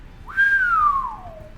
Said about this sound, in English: now I can whistle